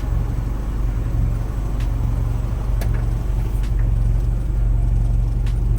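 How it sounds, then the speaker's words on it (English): Honda Civic EK engine idling low and steady in a garage, a continuous deep rumble with a faint hum that stays even throughout, no talking over it. "Kind of a low idle."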